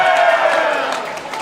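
Crowd at a V5RC high school robotics competition cheering for the Ochre Division, a loud, sustained roar of voices and shouts lasting a moment and tapering slightly toward the end.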